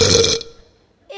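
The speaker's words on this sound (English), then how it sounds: "It was the biggest burp I had ever done." A loud, rough burp bursts out at once and trails off over about half a second, followed by near silence. A short voice-like sound follows at the very end, during a school stage production of Matilda the musical.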